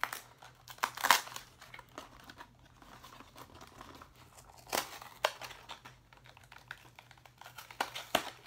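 Cardboard toy packaging for a Cars Wally Hauler and Ramone set being torn open, with scattered crinkling and tearing bursts that come close and fairly loud, then quieter rustling between.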